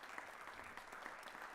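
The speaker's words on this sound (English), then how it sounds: "Let's give them a big round of applause." Very faint applause at a board of trustees meeting, a soft, even patter of clapping held at a distance with no voices on top.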